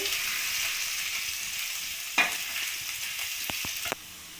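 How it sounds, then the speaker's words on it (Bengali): Chopped ginger and garlic frying in a pan, a steady soft sizzle with one clear clink of a utensil and a few quick taps before the hiss falls quieter at the end. "আদা রসুনটা ভালো করে ভাজা হয়ে গেছে"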